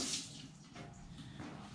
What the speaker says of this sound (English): I think I better rinse my hands a little